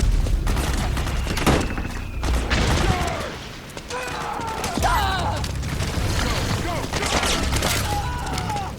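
Rapid gunfire in the video game Metal Gear Solid 4, with bursts of shots, thumps and mechanical clatter, steady and loud throughout, and voices calling out between volleys.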